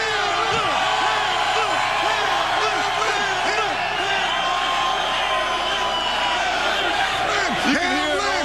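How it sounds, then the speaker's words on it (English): Stadium crowd at an NFL game chanting in support of Damar Hamlin, a dense, steady roar with rhythmic chant swells running throughout, with a commentator talking over it. "The crowd loves you."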